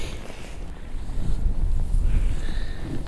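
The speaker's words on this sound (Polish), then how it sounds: "Niestety jest mocny wiatr." Steady rumbling strong wind buffeting the microphone at a fishing match, low and continuous throughout, with faint hissy gusts above and no voices.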